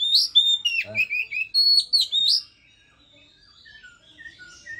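A caged oriental magpie-robin sings loud, clear, varied whistled phrases up close for about two seconds, with a few sharp clicks mixed in, then lets out fainter, sparser notes.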